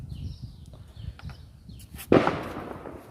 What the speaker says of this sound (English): Ooh, firework.